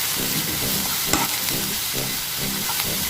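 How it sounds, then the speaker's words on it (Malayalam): Garlic paste and green chilies frying in hot oil for egg sauce fry, a dense close sizzle with rhythmic stirring scrapes throughout. "മുരിഞ്ഞ് വരുന്നത് വരെ ഇങ്ങനെ മിക്സ് ചെയ്തുകൊണ്ടിരിക്കാം."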